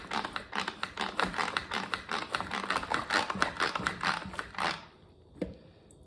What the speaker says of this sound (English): Just use a bread knife to cut up the baguette.